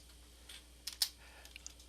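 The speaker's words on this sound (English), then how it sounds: "I'm going to go out onto the internet again, and I'm going to type in" Light, faint keystrokes on a computer keyboard, a few scattered clicks with one slightly louder tap near the middle, in a quiet room.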